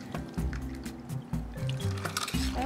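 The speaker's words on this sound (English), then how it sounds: "We're gonna put cold water." Cold water pouring from close by into a container for color-changing Hot Wheels Disney Pixar Cars toys, a short continuous liquid fill with trickling.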